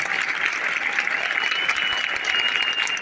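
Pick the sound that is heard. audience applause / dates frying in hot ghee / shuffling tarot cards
audience applause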